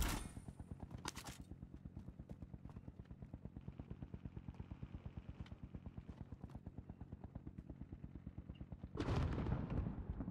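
Rapid automatic gunfire from the battle royale game Call of Duty Warzone, a steady stream of loud shots running through most of the stretch, with a louder burst of gunfire or an explosion near the end.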